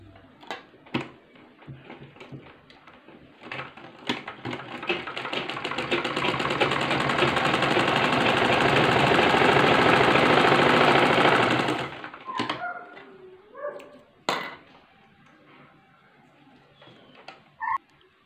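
A sewing machine stitches a salwar in one sustained whirring run of several seconds. Sharp clicks and handling knocks of the machine and fabric come before and after the run.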